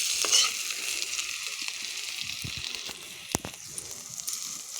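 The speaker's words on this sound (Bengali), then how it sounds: "এই যে তরকারিটা রান্না করছি" Curry cooking in a small amount of oil in a home kitchen, a steady close sizzle with occasional scraping stirs and soft clinks, no talking.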